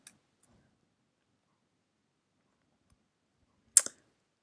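A single crisp mouse click on a computer, short and close, heard alone in near silence with a faint tick at the very start.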